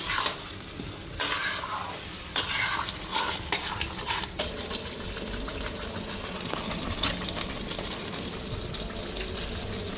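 Turmeric frying in a pan, stirred with a utensil that scrapes and clinks against the metal while a steady sizzle runs underneath, with a few louder knocks near the start.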